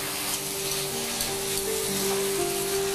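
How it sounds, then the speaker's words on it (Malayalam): Soya chunks fry and sizzle in a shallow layer of hot oil while being stirred, a steady close crackling hiss with faint scraping and no talk. "ഇങ്ങനെ ഇളക്കി കൊടുക്കുമ്പോൾ ഇപ്പോൾ ഇച്ചിരി എണ്ണയിലല്ലേ ഇത് കിടക്കുന്നത്, ആ എണ്ണയിൽ കിടന്ന് നന്നായിട്ട് മൂക്കണം"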